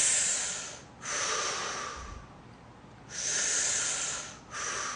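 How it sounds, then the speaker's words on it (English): Slow, deep breathing during a vestibular balance exercise: two long airy inhale-exhale cycles, close and clear, each breath drawn in and released with a soft hiss, no talk. "and I'm just going to breathe."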